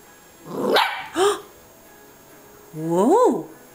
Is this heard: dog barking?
yes